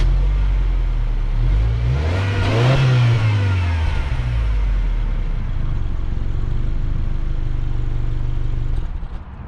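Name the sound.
Subaru Outback 2.4-liter turbocharged flat-4 engine accelerating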